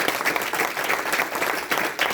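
Loud, sustained applause from a church congregation, a dense wash of many hands clapping steadily for a couple of seconds with faint crowd murmur beneath.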